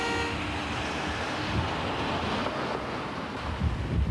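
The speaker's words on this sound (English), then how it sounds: "Or even that unexpected bay breeze." Steady breeze buffets the microphone along the San Francisco Bay shore, a continuous rumbling rush with gusty low thumps toward the end and faint distant traffic underneath.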